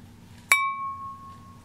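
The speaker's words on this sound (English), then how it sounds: "here's the sound of glass" A single sharp tap on an ordinary piece of glass gives a bright clink, then a clear, steady ring that holds for over a second against a quiet low hum.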